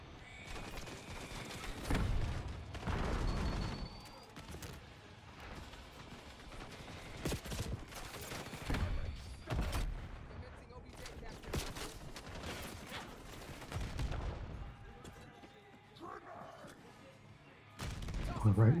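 Gunfire in a Call of Duty match, bursts of shots and rapid automatic fire at varying distances, irregular and fairly quiet, with a player's voice talking over parts of it.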